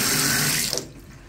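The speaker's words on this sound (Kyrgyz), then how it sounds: "Ысык суу, муздак суу чыгат" A tap runs with hot or cold water into a sink in a house for sale, a close, loud hiss of pouring water that cuts off abruptly near the end.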